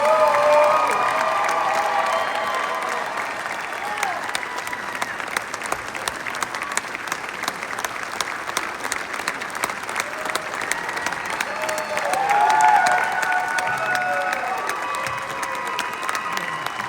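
Applause from the audience at a country concert rolls on steadily, thick clapping mixed with scattered cheers and whoops, rising again in a brief swell toward the end.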